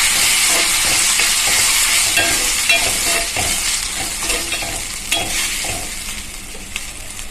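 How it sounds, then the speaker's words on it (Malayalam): Chilli tossed into fried onions in hot oil for a Kerala tempering, a loud, dense sizzle close up with rhythmic stirring scrapes throughout and no speech. "ഇനി ഇതിലേക്ക് മുളകിട്ട് കൊടുക്കാം ഇളക്കി കൊടുക്കാം"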